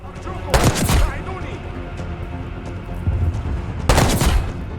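Gunfire from a Call of Duty mission, two loud bursts of shots near the start and end with a busy game mix of rumble and clatter in between.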